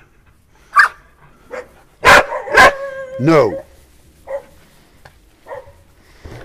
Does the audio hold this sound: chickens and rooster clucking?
no